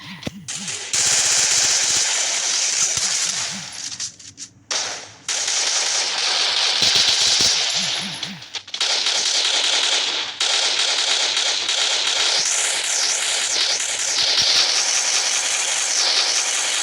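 Rapid automatic gunfire from the video game Free Fire, loud and nearly continuous in long bursts with brief gaps, dense rattling shots throughout.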